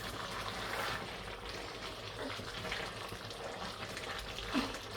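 Nigerian egusi soup with ground tomato and fresh pepper bubbles and simmers in a pot while being stirred, a steady close wash of soft sizzling and wet churning with no talk.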